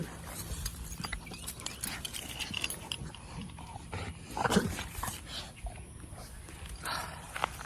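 A dog snuffling and moving about nearby, with soft scuffs, clicks and a brief louder rustle, quiet and intermittent in an indoor room.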